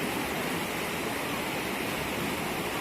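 Umbrella Waterfall in Pakistan roaring with a steady, dense rush of falling water, loud and unbroken throughout, with no voices over it.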